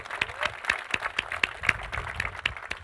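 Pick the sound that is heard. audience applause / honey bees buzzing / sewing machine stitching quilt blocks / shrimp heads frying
audience applause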